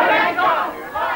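A rowdy crowd of protesters shouts and chants loudly and close by at a John Hewson campaign event in the Perth marginal seat of Stirling during the 1993 election.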